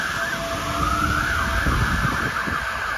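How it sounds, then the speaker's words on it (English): A fire engine siren wails loudly and continuously on a chilly night near Trafalgar Square in London, its tone rising and falling over the rumble of street traffic. "Fire engine."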